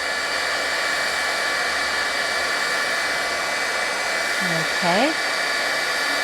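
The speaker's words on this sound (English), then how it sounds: "I'm going to let my heat tool heat up just a little bit" An embossing heat gun blows hot air in a steady, loud whooshing hiss that holds constant throughout, with a brief spoken word near the end.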